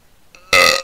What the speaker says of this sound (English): I'm getting the hiccups